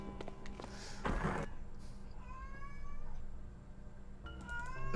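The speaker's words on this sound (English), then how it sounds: "She's still doing the meowing" A house cat meows several times at close range, with drawn-out rising and falling cries separated by short pauses, over a quiet indoor background.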